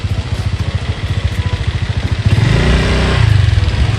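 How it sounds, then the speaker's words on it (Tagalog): Motorcycle engine idling close by as it is parked at a fishpond, a steady rapid chugging pulse that shifts to a smoother, slightly higher drone partway through. "Ipinaparada lang po muna ni Balay yung motor."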